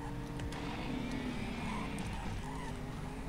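A monster truck brakes hard and skids in the racing video game Ignition, a steady tyre screech and engine rumble held at moderate level under a dense game soundtrack.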